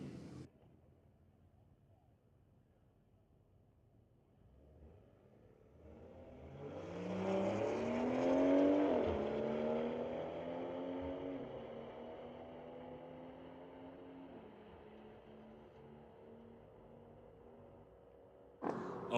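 A Volkswagen Golf R and a BMW street car launch side by side in a drag race at a raceway, engines swelling from idle into a loud revving roar that builds, peaks, then carries on steadily as they pull away.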